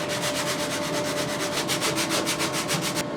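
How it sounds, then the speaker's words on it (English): Steady back-and-forth sanding strokes on wood, a rapid rhythmic rasping that keeps an even pace throughout and stops abruptly at the end. "Then it's back to conventional sanding."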